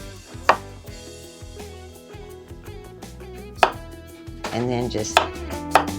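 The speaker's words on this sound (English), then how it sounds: "thinly slice your cucumbers" A knife slices cucumbers thinly on a cutting board, its sharp chops landing close and irregular, with the cuts growing quicker toward the end and a brief spoken phrase near the start.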